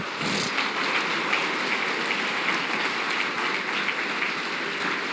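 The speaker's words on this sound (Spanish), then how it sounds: "Dale un aplauso al Señor bien fuerte." Strong, sustained clapping from a church congregation at a Spanish-language MCI service in Mexico City, a thick, even wash of many hands that runs unbroken with no voices over it.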